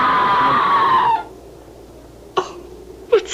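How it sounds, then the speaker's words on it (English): A scream sound effect from a radio mystery drama: a loud, high, wavering cry that drops in pitch and cuts off, then two short sharp gasps or coughs follow in a quiet room. "That was a scream, Sir Leonard."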